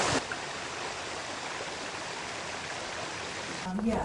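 A steady, broadband rush of stream water flowing over a riverbed outdoors, constant and fairly close, filling the whole stretch with an even hiss and a faint low murmur beneath.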